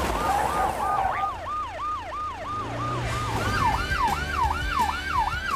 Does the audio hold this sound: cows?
no